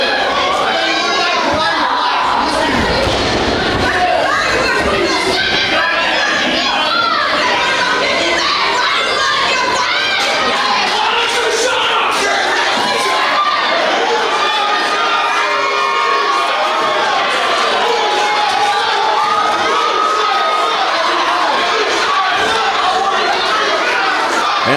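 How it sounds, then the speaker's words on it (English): Wrestling crowd in a ballroom chanting and jeering at a heel wrestler, a loud, continuous roar of massed voices with rhythmic shouts rising through it from start to finish. "Moonshine Mantell is being greeted with a chorus of chants"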